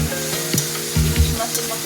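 Small chapila river fish, soft like tiny hilsa fry, frying in a pan over low heat, with a steady close sizzle broken by a few stirring scrapes.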